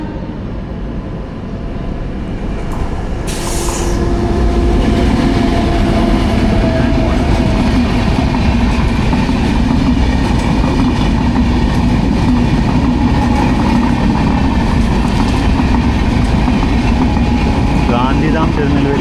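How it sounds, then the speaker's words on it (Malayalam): Gandhidham–Tirunelveli Humsafar Express passing at night, a loud continuous rumble and rattle of coaches building within seconds and holding steady, heard from aboard another train. "ഗാന്ധിധാം തിരുനെൽവേലി ഹംസഫർ എക്സ്പ്രസ് ആണ്."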